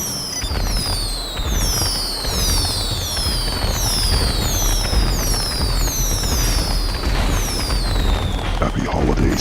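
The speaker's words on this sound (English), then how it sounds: "Rocket launcher!" Rocket launcher shots in GTA 5 Online blast in rapid repeated bursts, with whistling, descending streaks and crackling explosions layered over steady game noise, loud and continuous.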